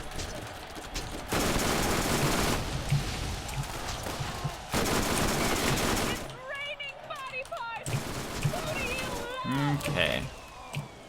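A small Hellfire gun fires in rapid, chopping bursts in the video game Borderlands. The loud automatic volleys come in stretches separated by brief lulls, while people talk over parts of the action.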